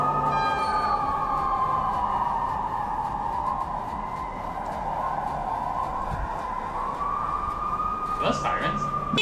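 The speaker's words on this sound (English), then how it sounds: "Those sirens." A long wailing siren rises and falls continuously over steady background rumble, with a brief clatter near the end.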